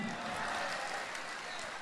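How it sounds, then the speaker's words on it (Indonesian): Audience applause at a live stand-up comedy show, a dense, steady wash of many hands clapping at full volume for the whole brief moment. "Tepuk tangan"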